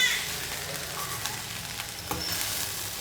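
Okra (lady's finger) fries in a pan with a close, continuous sizzle and faint crackles over about three seconds.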